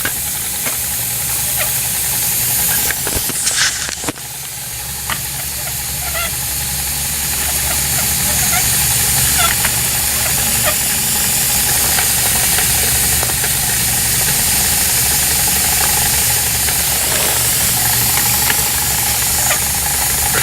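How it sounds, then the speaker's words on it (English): A steam engine idles at low revs with a leak hissing steam, giving a steady loud hiss and rumble with faint rapid ticking throughout and a brief sharp burst early on. "I'll slow this one down to a nice, comfy, not noisy RPM. It's just ticking over."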